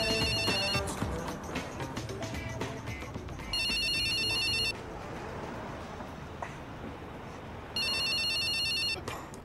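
A phone rings in a movie scene as two distinct electronic ringtone bursts several seconds apart, layered over a busy background of film sound and reactions.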